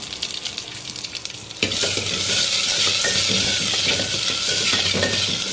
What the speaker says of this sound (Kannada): ಅರ್ಧ ಈರುಳ್ಳಿ ಕಟ್ ಮಾಡಿಕೊಂಡು ಅದು ಒಗ್ಗರಣೆ ಹಾಕೋಣ